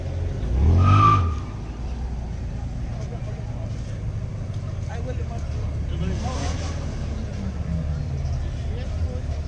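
A car doing a burnout on street tires at a street meet, engine roaring close up with a brief loud squeal early on, then a steady rumbling drone with voices talking nearby.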